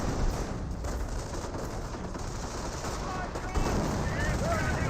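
MG42 machine gun and rifle fire crackle in a Company of Heroes battle, a steady stream of mid-distance shots over rumbling battlefield noise, with a voice speaking faintly underneath.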